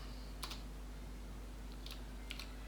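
Keys tapped on a computer keyboard while a line of HTML is written, faint scattered clicks in short bursts over a low steady hum.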